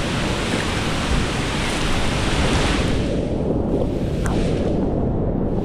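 Flood water rushing loudly in a continuous roar near a bridge swallowed by the strong current, a dense wash of noise that stays steady throughout.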